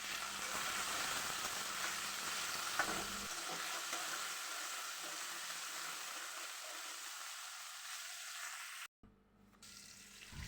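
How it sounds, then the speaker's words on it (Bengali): Potatoes and onions frying in a pan, a steady, close, broadband sizzle that runs almost unbroken, briefly cutting out near the end before resuming. "এখানে আমি আলু আর পেঁয়াজগুলোকে একটু ভালো করে ভেজে নেব।"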